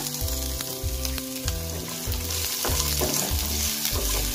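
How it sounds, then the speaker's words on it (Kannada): Ginger-garlic paste fries in a pan for Mangalore-style mutton curry, giving a loud, close, crackling sizzle that pulses in regular waves as it is stirred, with no speech over it. "ಇದೆಲ್ಲಾನು ಒಂದು ಸ್ವಲ್ಪ ಹೊತ್ತು ಚೆನ್ನಾಗಿ ಫ್ರೈ ಆಗುತ್ತೆ"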